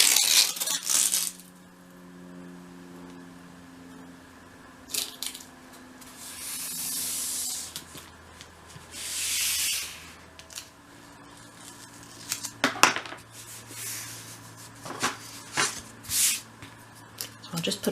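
Masking tape strips for a 1/12 scale shop model are torn off and pressed into place in short, crisp rips and rustles between quiet pauses, with a voice talking in places.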